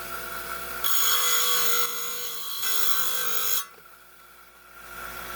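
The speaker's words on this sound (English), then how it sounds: "I think I'm going to cut this end off here." A saw cuts through a piece of tiger's eye stone, giving a steady, loud grinding whine that rises in bursts and then drops away as the end is cut off. No one speaks.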